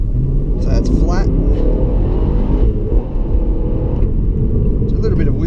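2016 HSV GTS shifting into second gear with slight wheel spin, its engine a loud, steady, close rumble throughout, heard from inside the car with a voice talking over it.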